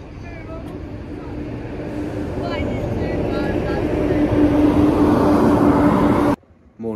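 A train interior carries a steady low rumble and hum that builds gradually in loudness, with faint squeaks and rattles, then cuts off abruptly near the end.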